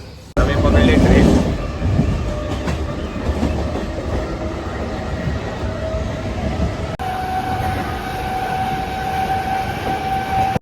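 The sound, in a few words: train ride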